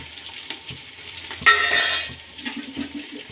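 Cumin and pepper frying in hot oil for a moong dal and rava khichdi, a soft sizzle that swells in a brief burst around the middle, with light stirring and clinks, no talking.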